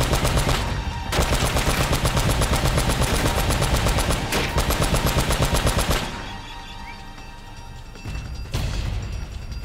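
A mounted turret gun fires in Uncharted: Drake's Fortune in loud, rapid continuous bursts. A brief gap breaks the first long stretch, then the fire drops off and resumes in lighter, scattered shots.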